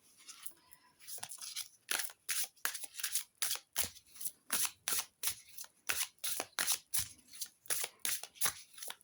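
A deck of Oracle des couleurs oracle cards is shuffled up close, giving quick papery riffling bursts in a steady rhythm of roughly two per second that continue throughout.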